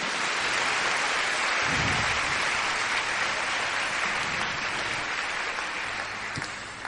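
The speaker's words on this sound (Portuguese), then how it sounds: "Pode aplaudir o Senhor Jesus por isso?" Church congregation clapping together in a steady, roomy wash of applause that holds for several seconds and slowly tapers off, with no voices over it.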